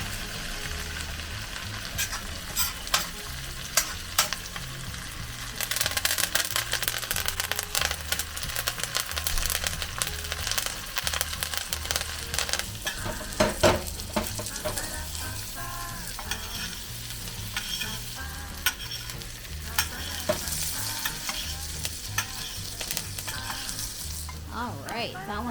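Steaks sizzling loudly and continuously in a hot pan, a dense crackling fry with steady spattering pops throughout, up close.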